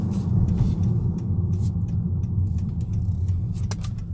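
Steady low road rumble and engine hum inside a 2019 Honda Accord Sport 2.0T with manual transmission, sunroof closed, while driving; a continuous, moderately quiet cabin drone with faint tyre noise and no talking.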